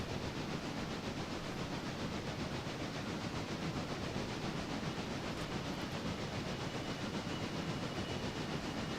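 A heavy train in the railroad simulation game Railroader runs continuously, a steady broadband rumble and hiss with faint rhythmic clatter, loud and unbroken, with no voices.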